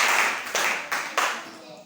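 Congregation at a church service clapping to acclaim the Lord, a run of loud, sharp, rhythmic claps spaced about a third of a second apart with voices mixed in.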